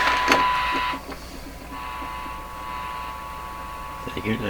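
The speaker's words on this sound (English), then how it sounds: "That's a 400 hertz signal." A distorted 400 Hz test tone plays through the speaker of a Bakelite Baby Champ NE 5000 tube radio during alignment, a steady buzzy hum with rough harmonics that holds throughout.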